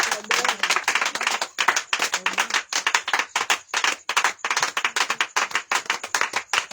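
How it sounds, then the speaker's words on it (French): A church congregation at an intense prayer evening in Yamoussoukro claps rhythmically in acclaim of Jesus, a steady, even beat of many hands up close that continues unbroken throughout. "Acclame le roi de gloire. Acclame Jésus"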